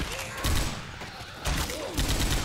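Bursts of automatic gunfire from a heavy machine gun, such as an M60, in the zombie shooter Left 4 Dead, sounding in two separate volleys with a quieter gap between them.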